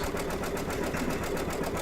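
An embroidery machine stitches an in-the-hoop butterfly mug rug, giving a steady, continuous mechanical whir with rapid needle chatter, close and even throughout with no talk.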